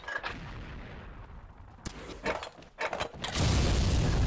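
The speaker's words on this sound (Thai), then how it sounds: "มาดิผมยิงนะ" Gunfire in the online shooter game XSHOT, a few sharp shots and booms amid game noise, ending in a loud sustained roar of fire up close.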